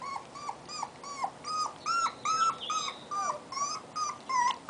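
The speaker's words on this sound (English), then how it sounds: "Gus is howling back there with him." Two dogs howl together outdoors: close, wavering, rising and falling howls with whimpering yelps, repeating in steady bursts with overlapping voices and no talk.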